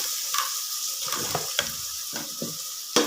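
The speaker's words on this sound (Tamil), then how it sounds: "வெங்காயம் நல்லா வதங்கிடுச்சு." Onions sautéing in a pan: a soft steady sizzle with several spoon-and-pan scrapes and taps as they are stirred, ending in a sharper knock against the pan.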